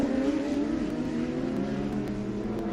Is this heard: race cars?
yes